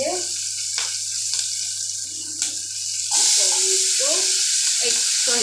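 Nigella seeds (kalo jeera) hit a little hot oil for a fish curry, and a loud, steady close sizzle bursts in partway through and continues to the end, with someone talking over it and faint kitchen clinks before.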